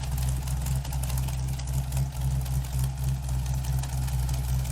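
A Chevrolet Corvette engine idles close by, a deep, steady, throbbing rumble with a slight rhythmic lope, alone and without speech.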